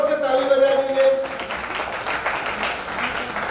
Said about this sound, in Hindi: जरा जोर से ताली बजा दीजिए।